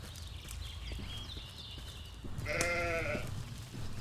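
Sheep bleat in the video game Force of Nature: one wavering bleat lasting about a second rises late over a steady ambient bed, with faint earlier bleating calls and soft clicks before it.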